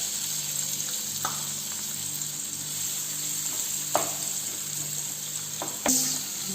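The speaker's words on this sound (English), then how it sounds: "I am adding 2 chopped onions into it." Two chopped onions fry in hot oil in a non-stick pan, giving a steady close sizzle throughout with a few soft clicks and knocks from stirring.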